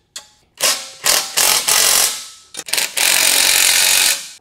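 Screw gun driving bolts into the steel frame of a Valor Fitness BF-7 Olympic bench during assembly: loud, close whirring bursts, several short ones and then a longer steady run, with brief pauses between them.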